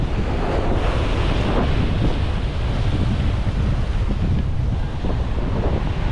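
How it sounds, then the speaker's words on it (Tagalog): Steady roar of surf breaking on a garbage-strewn shore at Bucana, with gusting wind buffeting the microphone throughout; no voices. "Oh, yung alon."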